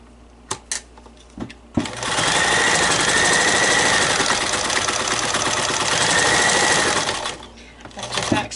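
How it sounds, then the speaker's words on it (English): A sewing machine runs a straight seam on a fabric mask that covers an N95, one steady loud burst of about five seconds after a few faint clicks, winding down before soft handling noises at the end. "I don't really need to pin it because I'm sewing this one straight"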